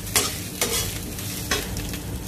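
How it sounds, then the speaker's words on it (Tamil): Cinnamon, dried chillies and urad dal stir-fried in a pan: a steady oil sizzle with a few sharp scraping strokes of a spatula at irregular intervals, close and alone. "இப்போ நம்ம அந்த பட்டை மிளகாய் உளுந்து எல்லாத்தையும் சேர்த்து ஒரு தடவை பரட்டி விட்டுருவோம்."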